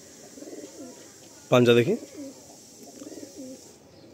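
A Fulsira Madrasi pigeon pair gives repeated low, rolling coos at a moderate distance. A person speaks briefly over them partway through.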